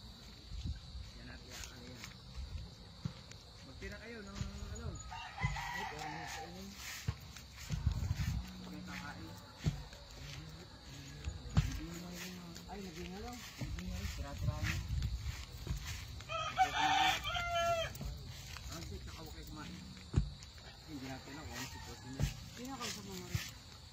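Chickens and a rooster on a farm after an attack by an unknown animal, clucking and crowing in bursts amid footsteps and movement, with people talking throughout.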